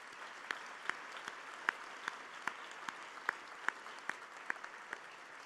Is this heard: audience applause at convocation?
yes